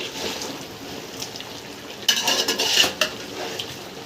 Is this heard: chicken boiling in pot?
yes